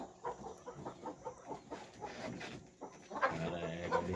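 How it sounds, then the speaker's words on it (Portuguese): Laying hens settling in at dusk, clucking softly and repeatedly in a close chorus with low murmuring calls, no talking. "Ela é galinha, né?"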